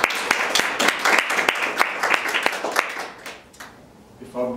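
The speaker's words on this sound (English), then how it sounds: "So, a round of applause to start." Lecture audience at a museum talk on armoured warfare claps, a fairly sparse run of distinct hand claps that thins out and fades, followed by a brief voice at the end.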